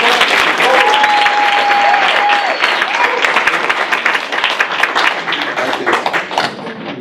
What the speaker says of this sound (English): Let's give Paul DeJoria a round of applause.